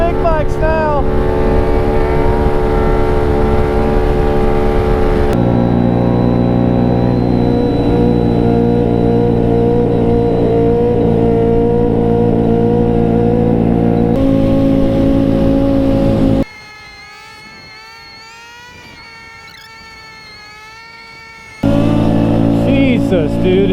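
Big motorcycles ride alongside at about 50 mph, their engines a loud steady drone with shifting pitch and continuous wind rush, briefly cut out midway before resuming.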